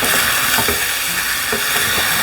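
Meat fries in a pan while being prepared for Kwati Purne, giving a steady, continuous sizzle with light stirring and no talking.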